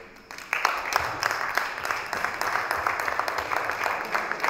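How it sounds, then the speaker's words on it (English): An audience claps at a press conference in Dubai for the film Ghayal Once Again, with dense, sustained applause that starts abruptly and carries on steadily throughout, loud and close. "Come on, the claps have to be louder."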